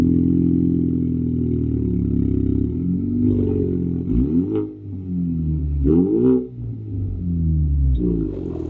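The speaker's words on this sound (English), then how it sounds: "What do you think about that exhaust sound?" Exhaust of a 2015 Ford Mustang EcoBoost, a low rumbling idle with several short blips and dips in the engine note, fairly close, with no talk over it.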